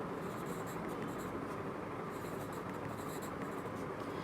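A pen scratches steadily across paper while labels are added to a drawn histopathology diagram, a soft continuous close scribbling with slight rhythmic strokes and no talking.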